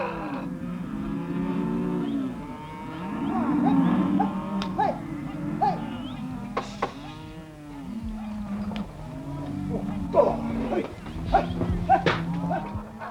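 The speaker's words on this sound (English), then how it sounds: "In this stockyard, the cattle are being drafted." Cattle lowing and bellowing in a dusty stockyard as the herd is drafted through a gate, repeated moos rising over a steady rumble of hooves, movement and a faint dog bark or two.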